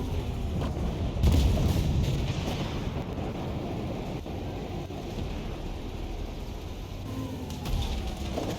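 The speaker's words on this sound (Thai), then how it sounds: "อันนี้คือมันระหว่างยิงอยู่มันก็มันก็รีโหลดไง" Type 74 tank firing its magazine-fed cannon in the Armored Warfare video game, deep booming shots over continuous engine rumble, with a heavier blast early on.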